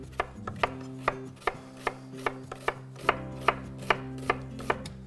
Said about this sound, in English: We'll fine slice that red onion as well,